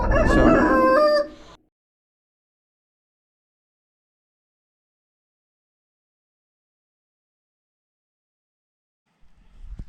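A rooster near a chicken coop crows once, loud and close, at the very start, followed by a long stretch of silence and a brief noise at the end.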